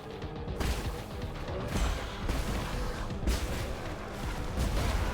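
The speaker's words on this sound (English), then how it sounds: "That's a very nice chain explosion." A rapid chain of explosions in the video game Nine Sols, several overlapping booms and crashes rolling together as a dense, loud, continuous rumble with no break.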